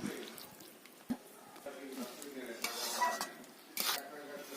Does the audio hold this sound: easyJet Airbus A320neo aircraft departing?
no